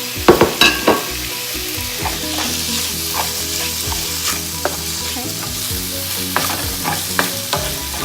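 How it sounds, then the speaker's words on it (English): Sliced chicken gizzards and heart fry in a pan with seasonings, a steady close sizzle broken by sharp scraping stir strokes, loudest near the start. "I will cook my gizzard that I sliced. Just the sliced gizzards and heart. So I'm gonna cook that in that pan with all the flavors."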